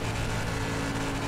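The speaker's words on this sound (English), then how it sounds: "You can hear the motor." A dirt late model race car engine in iRacing at Williams Grove Speedway drones loudly and continuously, a steady bogged-down roar with no breaks.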